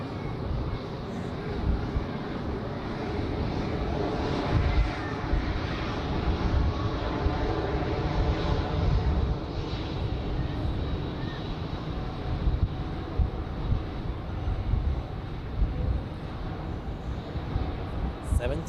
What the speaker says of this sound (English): Always a nice sight. Here it is. The classic Boeing 737.